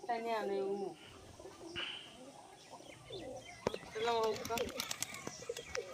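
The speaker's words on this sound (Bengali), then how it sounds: "ভালো পায়রা আছে" Pigeons coo repeatedly with soft low warbling calls, mixed with chirps and a few sharp clicks, while people talk nearby.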